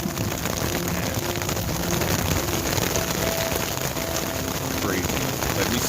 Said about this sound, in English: there's a pretty amazing thunderstorm going